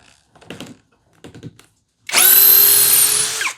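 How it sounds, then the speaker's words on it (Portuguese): After a few quiet taps and clicks, an impact driver bores into Cambará hardwood with a loud, close, whining buzz lasting about a second and a half, then cuts off abruptly. "a perfuração em Cambará, com a chave de impacto"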